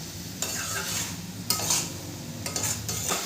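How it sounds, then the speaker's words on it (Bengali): Soybean chunks and potatoes being stir-fried with spices and salt, a low frying sizzle under repeated scraping and stirring strokes of a utensil against the pan, close and steady, no voices. "নুনটা দিয়েও ভালো করে আমি কষিয়ে নেব।"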